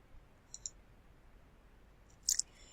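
Two faint computer mouse clicks in quick succession, followed a moment later by a sharper, louder pair of clicks, all over a quiet room hiss.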